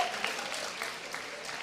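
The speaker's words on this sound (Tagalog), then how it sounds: "Lagi tayong pumalakpak ng masaya." A church congregation claps in applause during preaching, a soft, dense patter of many hands heard from a distance with no talk over it.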